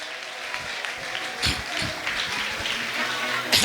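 A church congregation claps in praise during a sermon, a dense, continuous patter of many hands with a few louder bursts, while voices can be heard faintly underneath.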